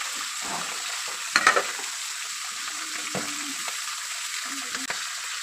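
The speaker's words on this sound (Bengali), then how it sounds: "ভালো করে মাথাগুলো লাল করে ভেজে নেব" Fish heads fry in hot oil for muri ghonto dal, giving a loud, steady close sizzle with occasional clacks and scrapes of a spatula turning them, and no voices.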